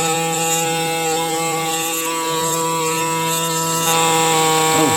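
Muffled pneumatic power tool chipping rock away from a fossil crab, a continuous close buzzing whine with a steady pitch that swells slightly louder near the end.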